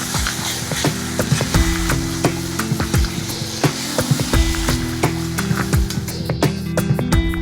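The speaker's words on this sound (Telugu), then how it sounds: "బాగా కలుపుకొని స్టవ్ ఆఫ్ చేసుకోవాలి" A spoon scrapes and stirs thick tomato coriander chutney in a pan on the stove, giving repeated close clacks and scrapes in an uneven rhythm over a soft, steady cooking hiss.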